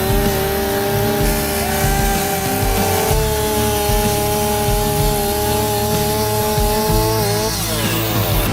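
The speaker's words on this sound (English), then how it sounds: "Using the chainsaw was awesome." Chainsaw cutting an old tree into pieces, a loud close, continuous buzzing whine whose pitch dips and rises as the chain bites into the wood.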